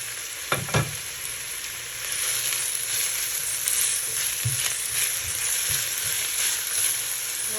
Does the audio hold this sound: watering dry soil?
no